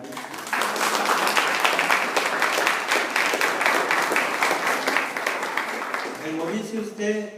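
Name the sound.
congregation applauding for Gaby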